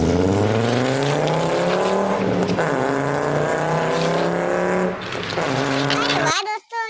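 A green open toy car races along with a loud, buzzy engine-style drone that wavers in pitch, then cuts off abruptly near the end; a voice may be imitating the motor sound.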